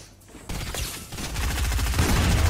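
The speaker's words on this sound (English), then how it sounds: "Shoot that with me. Shoot that out." Rapid Fortnite gunfire, dense overlapping rattling shots that start after a brief quiet lead-in and keep building into a steady barrage, loud and close.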